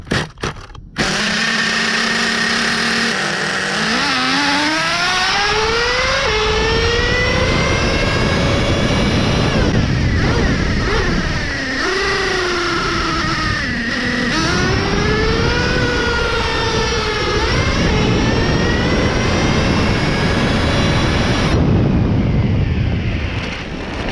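Traxxas Revo Survivor Edition nitro RC truck engine heard from an on-board position, a loud continuous buzzing whine that rises and falls in pitch with throttle for about twenty seconds before cutting out abruptly near the end.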